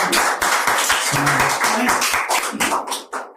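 Hands clapping from an audience at a Hindi poetry and storytelling event, a dense burst of close claps that keeps going and thins out near the end.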